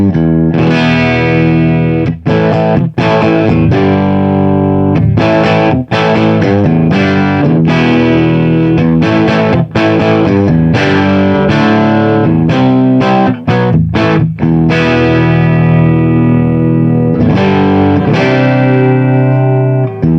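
An electric guitar rings out through a 1978 Marshall MkII 1959 Super Lead amp with jumpered channels, playing continuous chords and riffs with a fat, sparkling, open tone, loud and steady throughout, no talking.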